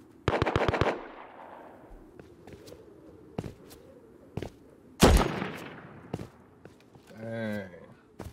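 Thompson submachine gun fire in the Rust survival game, opening with a quick burst of rapid shots, then scattered single cracks, a heavier blast and footsteps, with a voice briefly speaking near the end.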